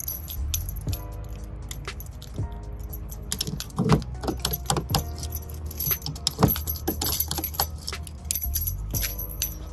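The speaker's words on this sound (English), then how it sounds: "you have to try each key until you find one that turns" Metal keys jangle and click as each GM 10-cut key is tried in a car lock in turn, close and crisp, with bursts of rattling and sharp insertion clicks throughout.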